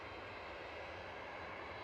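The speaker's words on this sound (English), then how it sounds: "there's a Ryanair off to Dublin as well, it's just pushing back" A Ryanair jet pushing back at Edinburgh Airport gives off a faint, steady broadband engine roar heard from a distance, continuous and unbroken, with no voices.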